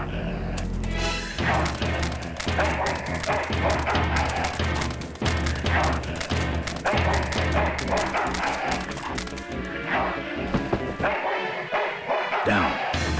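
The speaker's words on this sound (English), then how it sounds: "That's one ill-tempered mongrel." A dog barks in the Full Throttle video game, loud and repeated, amid crashes, thuds and other busy game sound, with a voice speaking over part of it.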